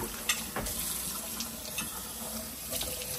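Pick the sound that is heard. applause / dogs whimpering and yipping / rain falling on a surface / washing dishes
washing dishes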